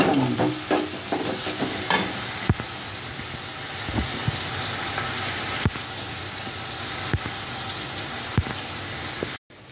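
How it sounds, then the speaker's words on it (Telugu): Tomatoes fry in a pan with salt, a steady close sizzle running under scattered clicks and stirring knocks, ending in a brief cut. "ఇదిగోండి, వేగుతుంది కదా, వేగిపోయిందండి, మగ్గిపోయింది"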